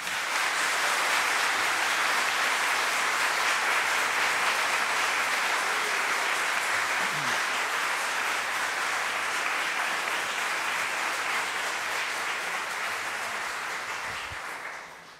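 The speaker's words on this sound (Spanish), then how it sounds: "El público les puede brindar un merecido aplauso." Audience in a court ceremony hall applauds lawyers newly sworn in before the Supreme Court, a sustained, even wash of many hands clapping for about fifteen seconds before tapering off at the end.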